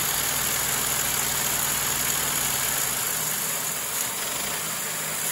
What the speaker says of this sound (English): As you can see, the engine is chugging along and is keeping up with the high speed of